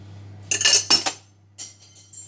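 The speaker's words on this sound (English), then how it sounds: "That was the sound of a fork escaping." A metal fork falls and clinks against dishes in a kitchen: a quick cluster of bright clatters followed by a few lighter rattles as it settles, close and without speech.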